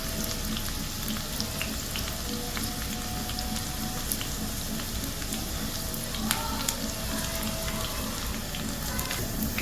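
Ingredients for Hyderabadi dalcha fry in a pan over a medium-high flame, a steady close sizzle with faint crackles and occasional stirring clicks, no talking.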